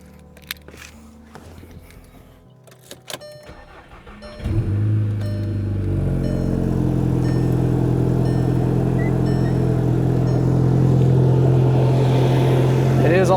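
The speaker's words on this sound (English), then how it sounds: "It is also a cold start," A Volkswagen GTI engine cold-starting after some clicks and handling noises, catching abruptly and settling into a loud, steady, slightly rising idle drone that continues to the end.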